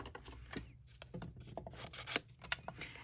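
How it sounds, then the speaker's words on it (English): Scissors fussy cutting around a stamped paper card, giving a run of small, close snips and rasping paper sounds at a quiet level, with no talking. "We have to fussy cut this."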